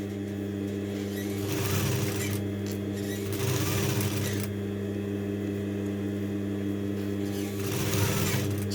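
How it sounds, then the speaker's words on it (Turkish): A sewing machine runs steadily along a collar edge, its motor hum constant with three rhythmic bursts of stitching rising over it, close and clear with no one talking. "bu şekilde diktiğimiz yaka çevremize mutlaka çimen dikişi gidelim"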